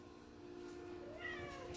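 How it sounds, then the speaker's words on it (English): A house cat gives a faint, short meow near the end, quiet against a steady low background hum indoors. "This is little kitty. She says hello."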